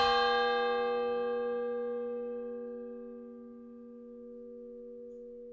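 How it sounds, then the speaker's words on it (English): A historic meeting house bell in Jaffrey Center, New Hampshire rings once, a strong struck tone with rich overtones that hums on and slowly decays, close and alone. "the piece was structured around this bell sound"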